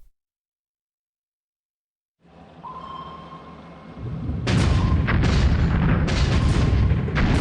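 Torpedo explosions in a naval war video game: after silence, low rumbling builds, then a run of loud, heavy booming blasts and bursts follow in quick succession, filling the rest of the clip.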